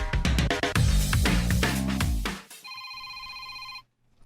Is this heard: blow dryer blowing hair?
no